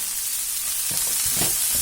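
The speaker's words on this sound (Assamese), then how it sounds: "এইখিনি মই 2 মিনিট সময় ভাজিম" Onion with green and red capsicum frying in oil in a wok, a continuous sizzle with brief stirring scrapes near the end.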